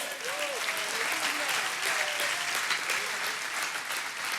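A church congregation claps during a sermon, sustained dense applause from a large room, with a voice speaking faintly underneath.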